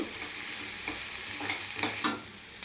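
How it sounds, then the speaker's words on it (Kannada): Finely chopped green chillies fry in a pan, giving a steady close sizzle broken by a few soft stirring scrapes, with no voices. "ಮತ್ತು ಚಿಕ್ಕದಾಗಿ ಕಟ್ ಮಾಡ್ಕೊಂಡಿರೋ ಹಸಿಮೆಣಸಿನ್ಕಾಯಿ ಒಂದೊಂದು ಸ್ಪೂನ್ ಹಾಕ್ಕೊಳ್ಬೇಕು. ಇದನ್ನು ಸ್ವಲ್ಪ ಫ್ರೈ ಮಾಡ್ಕೊಳ್ಬೇಕು."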